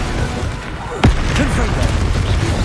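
Confringo blasting spell in the video game Hogwarts Legacy, a single sharp burst landing over a low rumbling battle bed, with a voice speaking faintly beneath.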